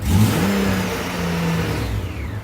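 Honda GL1500 motorcycle engine revving up from a low idle with a little throttle, a steady close mechanical drone that rises slightly in pitch and holds, with no talking.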